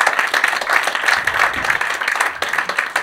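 Audience members at a French stage show applaud the performer's two assistants with a steady, dense round of clapping and no speech over it.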